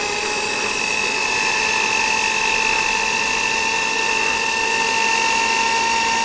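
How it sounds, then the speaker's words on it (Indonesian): A dough mixer for kebab dough hums with a steady, loud motor whine that holds a constant pitch throughout, close up and with no talking. "Lalu kita masukkan pada mixer seperti ini."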